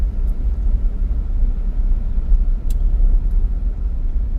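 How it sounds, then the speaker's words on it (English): A car driving slowly through a residential parking lot in Lapu-Lapu, Mactan, Cebu, heard from inside as a steady low engine and road rumble, loud and continuous with no talk. "I'll drive through the parking lot"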